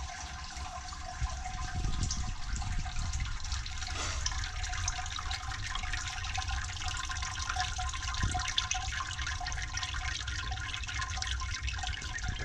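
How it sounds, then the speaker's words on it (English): Hot wort drains steadily out of the grain bed in a Grainfather home-brewing system, a faint continuous trickle and splash of liquid running down for the whole stretch. "That's all the wort that was in the grain, just running down, running down."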